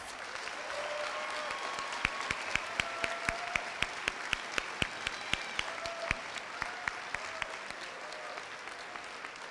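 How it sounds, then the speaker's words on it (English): An audience at a high school community salute-to-service event applauds students, a steady patter of individual claps ringing out over the room for nearly ten seconds with no talking. "let's give the students one more round of applause."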